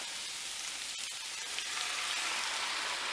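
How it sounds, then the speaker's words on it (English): Dry Marsala wine hits a hot pan with a loud, steady sizzle and crackle, with a couple of sharp clinks near the start, close and uninterrupted. "Now I'm going to add my dry Marsala wine."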